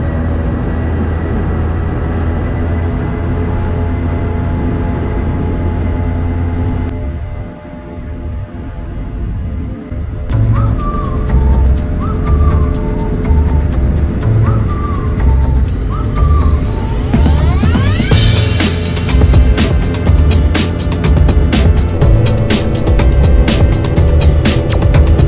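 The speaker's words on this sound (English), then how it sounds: "we were taxiing down the runway and taking off" A steady engine drone builds into a loud roar, with cabin rumble and a few brief electronic beeps, as a small plane taxis and accelerates for takeoff.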